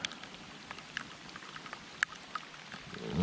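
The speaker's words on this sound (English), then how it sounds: "If this rain keeps up, I think I'll just call it a day." Rain falls at an outdoor fishing spot during a fishing festival, a faint, steady patter with scattered sharper drop hits and a slight rustle building near the end.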